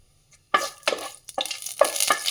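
Kasuri methi and cumin being stirred in a frying pan for Punjabi-style chole curry, with brief bursts of sizzling and spoon scraping that come in quick, close, loud strokes after a moment of quiet.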